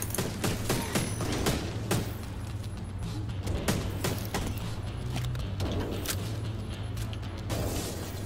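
Gunfire rattles in the video game Tom Clancy's The Division 2, dense volleys of sharp shots packed closely together over a steady game background, with no talk.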